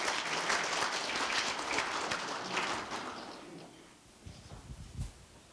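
An audience at a university award ceremony and evening event claps in thanks. The applause is full at first, fades gradually over a few seconds, and ends with a few scattered low thumps in a quiet hall.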